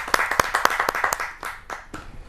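An audience at a Hindi kavi sammelan poetry gathering claps to welcome a poet, Kamini Mishra from Noida: sharp, close, distinct handclaps in an uneven rhythm that thin out toward the end.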